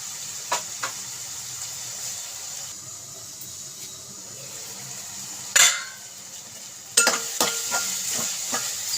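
Salt and turmeric stirred into sizzling oil in a pan for a chicken and brinjal curry: steady close frying hiss with scraping utensil strokes and a few sharp metallic clinks near the end, no talk.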